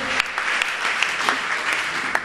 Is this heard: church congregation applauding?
yes